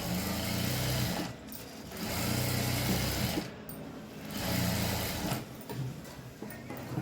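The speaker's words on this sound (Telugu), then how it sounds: "ఇప్పుడు ఈ పై వైపు నుండి షేప్ బెల్ట్ పైన ఒక కుట్ అనేది వేసుకోవాలి" A sewing machine stitches along the belt of a blouse in three close bursts of rapid, even whirring, separated by short pauses.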